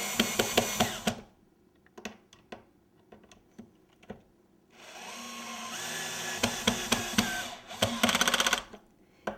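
A power screwdriver whirs in short bursts, driving screws into a cupcake tower stand, with a few brief clicks and clacks between two longer runs of buzzing motor close by.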